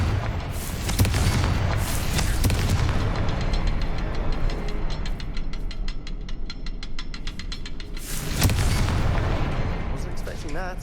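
In Hogwarts Legacy, a Confringo spell sets off heavy booming blasts, one near the start and another late on, with rumbling and rattling game effects between them.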